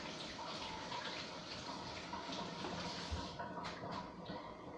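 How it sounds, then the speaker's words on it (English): Running tap water splashes steadily as greasy hands are washed at a kitchen sink after mixing meatloaf, a continuous broadband rush with a few small clunks, close and unbroken throughout. "let me wash my hands here."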